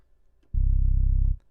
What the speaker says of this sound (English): This LB sub bass, my own little sound that I created.